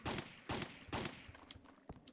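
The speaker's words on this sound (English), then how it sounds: "There's a very satisfying head explosion sound in this game" Three sharp, loud bursts land about half a second apart during Resident Evil 3 Nemesis gameplay as heads explode. Smaller crackling hits follow and fade, with no one talking.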